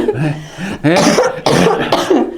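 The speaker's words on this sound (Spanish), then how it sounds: "Hasta me salió la tos que estaba controlando." A loud, close burst of repeated coughing, several harsh hacks in a row with brief pauses between them.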